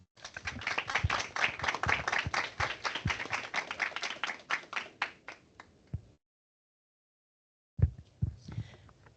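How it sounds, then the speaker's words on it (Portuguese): Audience at an academic law panel applauding two professors: a dense burst of hand clapping for about six seconds that thins and fades out, followed after a pause by a few scattered claps and shuffling. "ao professor Greco e ao professor Alaor, uma calorosa salva de palmas."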